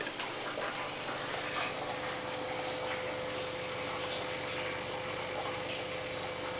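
Booster pump on a reverse osmosis/deionization water filter system running steadily, a constant mechanical hum with a fixed tone and broad watery hiss, unchanging throughout.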